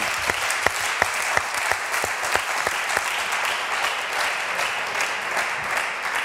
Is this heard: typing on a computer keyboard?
no